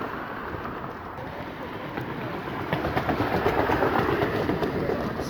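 Steady rumbling and rattling of road traffic crossing an old, noisy bridge on uneven tarmac near Battersea Park in London, a continuous wash of noise that swells louder in the second half with rhythmic clattering and some wind.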